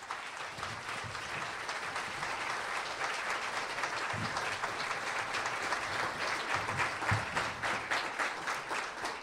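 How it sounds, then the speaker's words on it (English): Audience applause at the 2007 Latino Diamante Awards ceremony for a youth accomplishment honoree, a steady, moderately distant wash of clapping with occasional sharper claps throughout. "A big, big applause."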